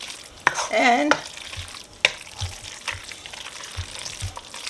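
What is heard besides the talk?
stirring Parmesan cheese into one-pot pumpkin pasta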